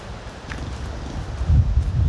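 Wind blowing outdoors in a Sundanese village, a steady rushing roar that swells louder toward the end, with faint leaf rustling and no talk.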